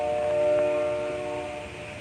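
A passing train rumbles with a sustained tonal horn-like drone, steady and moderately loud, fading slightly toward the end.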